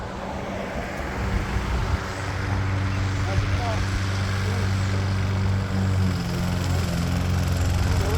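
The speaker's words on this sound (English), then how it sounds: "my neighbor's mowing the lawn" A lawn mower drones steadily at a distance, a constant engine hum with faint, indistinct voices and background noise.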